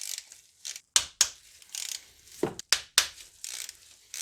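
A ratchet works E12 bolts loose on a Mercedes S320 W220 water pump, sounding as bursts of close, rapid metallic clicking broken by sharp knocks and pauses, with no talking.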